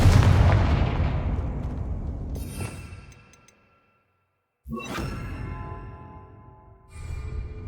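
Confringo spell blast in Hogwarts Legacy: a heavy booming impact with a long rumbling decay into near silence, then a second sharp crack-like blast and a third softer burst, with no talking.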